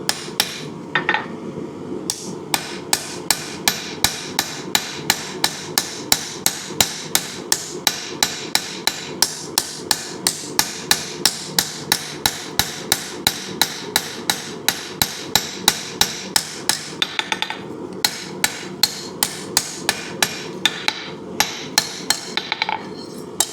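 Steady, ringing hammer blows hand-forge the bevels of a hidden tang hunter knife on an anvil, dozens of loud, close strikes in an even rhythm with occasional brief pauses.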